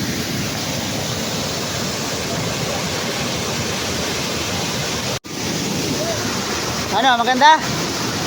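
Steady, loud roar of rushing water from Dipalyon Falls fills the whole stretch, with a brief dropout partway and a short burst of talk near the end over the torrent.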